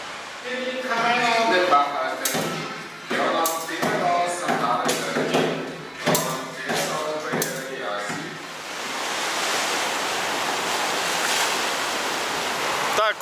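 Continuous soft rushing of sea surf on a shore in Havana, Cuba, heard alone after a stretch of speech, steady and moderately loud.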